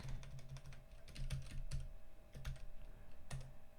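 Fingers tap out code on a computer keyboard in a quiet room, a steady run of light, close clicks with a few heavier keystrokes spaced through it, nothing else heard.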